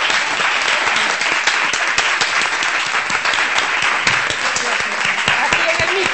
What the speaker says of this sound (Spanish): ya podemos aplaudir.